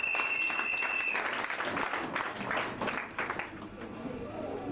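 An audience at a school results proclamation applauds a student, a dense, loud wash of clapping that fades gradually toward the end, with a voice speaking underneath.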